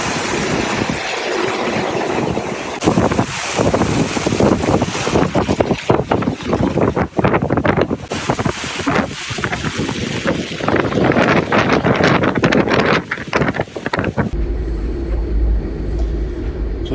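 Strong wind of about 20 knots roars across the microphone aboard a sailboat, a steady loud buffeting rush with gusty swells throughout that drops off abruptly near the end to a low rumble.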